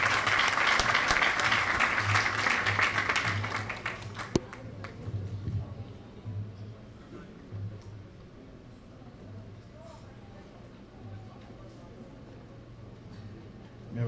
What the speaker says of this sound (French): Monsieur le parrain, sous vos applaudissements